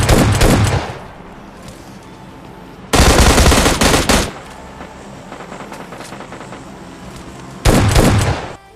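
Loud bursts of automatic gunfire in the video game PUBG Lite, three heavy volleys with quieter stretches of scattered shots and game noise between them.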